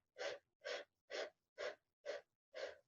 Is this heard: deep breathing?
yes